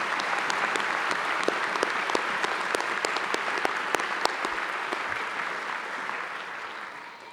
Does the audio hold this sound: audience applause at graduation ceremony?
yes